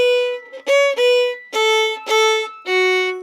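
A solo fiddle plays the tune She Said She Couldn't Dance in a bouncy dotted rhythm, with bright bowed notes and short lifts between phrases, close and alone.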